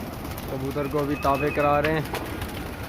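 Pigeons coo in a low, soft, repeated warble, with faint background noise throughout.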